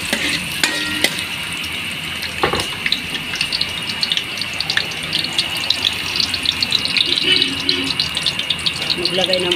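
Ginger fries in hot cooking oil with a bright, continuous sizzle, punctuated by sharp crackles and occasional clatters of a utensil, heard close up and fairly loud.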